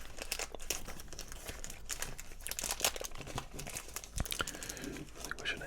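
Ripping at a tough plastic wrapper on a 1990 Pro Set Series 2 football card pack, continuous close crinkling and tearing, loud and busy for several seconds.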